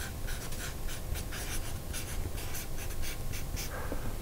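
Marker or chalk strokes scratch across a board in a steady run of short, rhythmic scrapes, close and clear with no voices.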